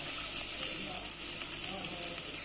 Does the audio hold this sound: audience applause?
no